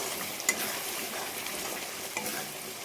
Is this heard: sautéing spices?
yes